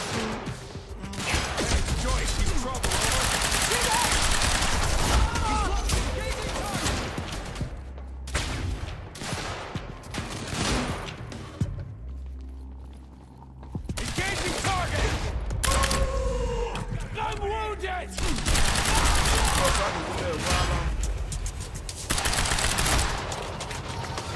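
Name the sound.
gunfire in video game Quantum Break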